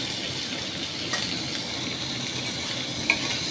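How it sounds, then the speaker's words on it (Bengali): Turmeric and cauliflower frying in butter in a pan, a steady close sizzle with soft scraping from stirring and a light clink of utensil against the pan, no voices. "দিয়ে একটু ভাজাভুজি, নাড়ানাড়ি।"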